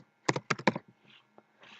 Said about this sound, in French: je tape avec mon clavier le nouveau nom